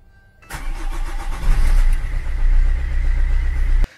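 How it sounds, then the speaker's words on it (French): A 2011 Opel Corsa engine cranks and catches sharply, then settles into a loud, steady idle close by for a few seconds before cutting off abruptly. "Là on va pouvoir démarrer, alors, on est au point de mort."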